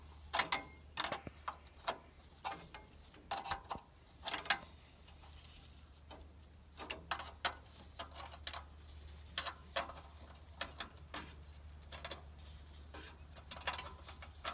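Intermittent metallic clicks and ratcheting taps from hand tools working a bracket loose on a hydraulic hose of a Kubota/Bobcat skid steer attachment, close by, in irregular bursts over a low steady hum.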